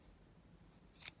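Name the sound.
cutting dried sunflower material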